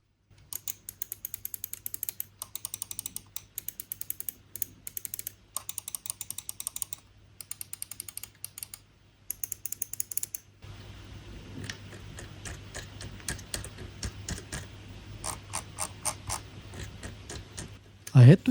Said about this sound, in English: I had to increase the volume significantly to hear the scroll wheel sound difference